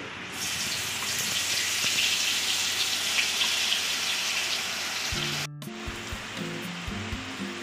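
Onion paste hits hot oil with a bay leaf and whole garam masala and sizzles in a loud, steady hiss for several seconds, then cuts out as music begins.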